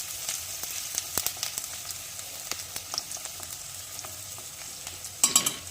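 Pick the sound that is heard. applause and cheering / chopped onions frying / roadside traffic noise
chopped onions frying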